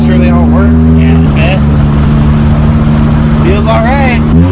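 A Honda Civic engine pulling in second gear while driving, a loud, steady, mid-pitched drone with rising revs, with occupants talking over it inside the cabin.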